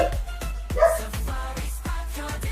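A dog indoors barks at a truck outside, a rapid string of six or more sharp barks in a steady, excited rhythm, close and moderately loud, with no speech.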